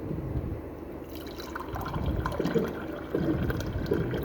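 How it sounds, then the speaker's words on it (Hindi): Water runs steadily from a kitchen water dispenser, a continuous trickling pour that stays at the same moderate level throughout, with no voices. "डिस्पेंसर से पानी निकाल रही हूँ।"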